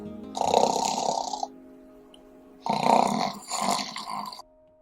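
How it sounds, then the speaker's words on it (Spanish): A sleeping bear in a children's story snores in two long grunting breaths, loud and close, with a quiet pause between them and no talk. "pero Oso seguía roncando."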